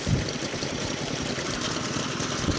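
A Gokoku AE19 kerosene farm engine, a 4-horsepower Aichi Machine Industry unit from around 1955, runs at an outdoor engine meet in Chikuma, Nagano, with a steady low chugging and a regular soft thump beneath a broad background hiss.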